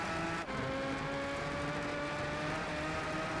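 A McLaren F1 race car in the Gran Turismo 5 racing game runs with a steady, sustained engine whine at constant pitch, heard alone and fairly close.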